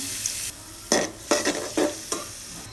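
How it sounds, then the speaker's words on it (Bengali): Onions sizzle in oil in a pan for a small-fish tamarind curry, a soft constant fry broken by several sharp bursts of stirring and scraping, close and with no voices. "প্রথমে পেঁয়াজ দিয়ে দিলাম তারপর পরিমাণ মতো তেল দিয়ে দিলাম"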